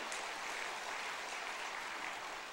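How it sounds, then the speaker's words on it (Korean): A church congregation at a Christmas service claps to celebrate an infant baptism, giving a dense, even wash of applause that holds steady throughout. "다시 한번 박수하겠습니다."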